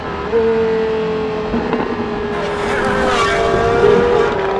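Porsche V10 sports car engine, a 600-horsepower rear-drive manual machine, revving loud and close with a steady high-pitched howl that climbs in pitch toward the end, with no voices over it.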